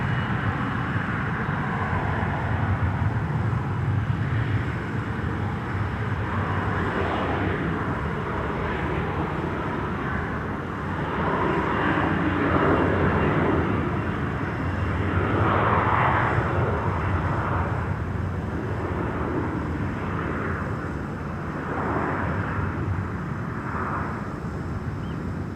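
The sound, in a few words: KLM flight 1337 aircraft at Amsterdam Schiphol Airport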